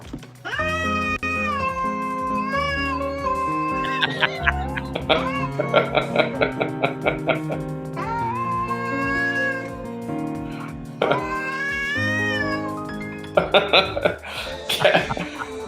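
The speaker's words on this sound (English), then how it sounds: "Cats are scary when they're pissed." Angry cats meow and caterwaul continuously in loud, wavering, drawn-out yowls, with stuttering bursts in between and a voice underneath.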